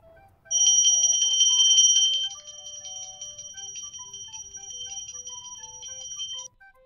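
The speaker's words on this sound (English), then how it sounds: "Correct. Bell makes this sound." An electronic ringing tone played as a bell sound for a children's reading quiz, a loud continuous trill for over a second, then a softer sustained ring with a simple note melody running beneath it.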